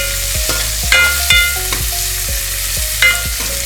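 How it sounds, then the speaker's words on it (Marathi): Onion fries with whole spices and dried red chillies in hot oil, a steady close sizzle broken by repeated rhythmic scrapes and knocks of a spoon against the pan, with no voices. "त्यानंतर लगेच आपण कांदा घालूया आणि लालसर होतपर्यंत फ्राय करून घेणार आहोत।"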